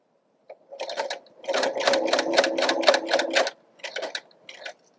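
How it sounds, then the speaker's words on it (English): Sewing machine stitching an invisible zip into fabric, running in close mechanical bursts: a short start, a long steady run, then two brief runs after a pause, with no talking. "And then I continue sewing until I get past the opening of this zip here."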